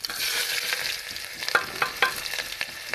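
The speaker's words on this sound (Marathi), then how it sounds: "तेल गरम झालेलं आहे आता मी ह्यात जिरं टाकून घेते हा थोडंसं चला जिरं टाकला तर कांदा टाकून घेते" Cumin and chopped onion frying in hot oil, a steady broadband sizzle with a few sharper crackles and spatula scrapes partway through; no voices.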